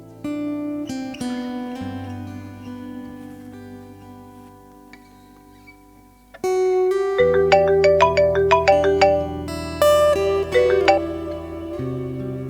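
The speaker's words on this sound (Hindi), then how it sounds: "मामा क्यों कॉल कर रही है? उठा लें आप फोन उनका" A phone rings with an incoming call, its melodic ringtone starting softly and then looping louder with bright repeated chimes, heard alone in a Pakistani drama scene.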